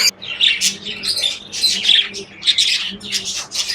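Budgerigar chicks give a rapid run of shrill, raspy squawks and chirps, close and fairly loud, in overlapping bursts throughout with no gaps of silence.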